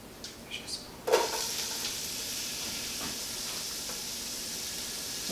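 Chopped onion hits a hot pan with a sharp onset, then settles into a steady, moderately loud sizzle that hisses on alone with no talking.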